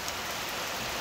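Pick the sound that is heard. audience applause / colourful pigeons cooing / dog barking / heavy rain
heavy rain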